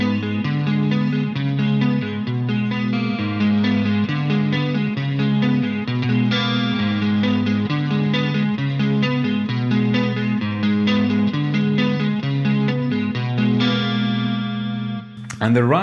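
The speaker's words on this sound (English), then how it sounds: "Very nice clean sound, so the clean part goes like this." Marshall JVM410H guitar amp on its clean channel, playing a steady run of clear chorded guitar with effects, full and constant from start to finish, with no one talking over it.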